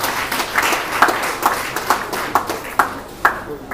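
An audience at a church-style live-streamed fundraising gathering claps together in a steady, rhythmic beat, the claps sharp and fairly close, fading slightly toward the end with no talking.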